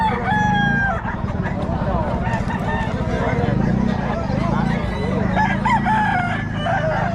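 Roosters and other fowl at a Filipino breeder's yard crow loudly, with long rising calls over steady clucking and a continuous backdrop of birds, while people talk nearby.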